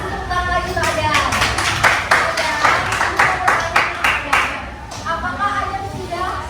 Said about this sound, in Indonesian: kasih tepuk tangan lagi Pak Adam